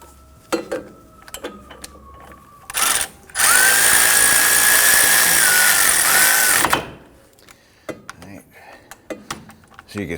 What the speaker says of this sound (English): we can come back with our power tool and try and run those in